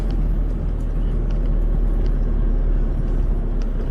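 A four-wheel drive car plods slowly along a bush track in a low gear, its engine a steady loud rumble close by, with faint crunching from the tyres and no voices.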